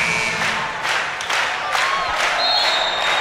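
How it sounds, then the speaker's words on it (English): Spectators in a packed arena at a Hawaii versus BYU men's volleyball match cheer and applaud loudly, with bursts of clapping and yells swelling over a constant crowd roar. "This crowd is thumping."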